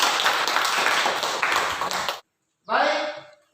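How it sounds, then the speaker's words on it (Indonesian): A classroom group claps for the first group at an Islamic education teaching practice session, a brief burst of mixed clapping that cuts off abruptly, then a voice speaks. "Tepuk tangan untuk kelompok 1"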